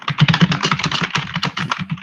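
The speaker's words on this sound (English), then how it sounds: "I know you can hear the typing" Rapid typing on a computer keyboard, a dense run of close, crisp key clicks in quick irregular rhythm, loud and alone.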